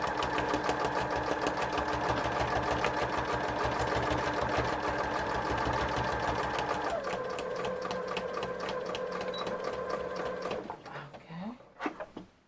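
A sewing machine back stitching material, its needle hammering in a steady rapid rhythm that shifts pitch partway through, then slows and stops with a few mechanical clicks at the end.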